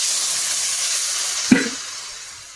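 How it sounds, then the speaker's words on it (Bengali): Water poured into a hot pan of frying potato poppy-seed curry gives a sudden loud splash and burst of sizzle. The hiss then fades slowly, with no one speaking. "এবার আমি জল ঢেলে দেবো"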